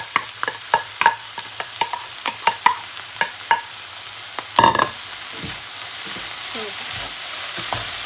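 Vegetables and konjac rice are stir-fried in a pan, with a rapid run of sharp spatula taps against the pan that gives way to a continuous sizzle. No talking.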